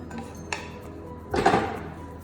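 Caramelized almonds poured from a hot frying pan onto a tray, a short clatter near the half-second mark, then a louder rattling, scraping slide of nuts and pan lasting about a second, close by with no talking.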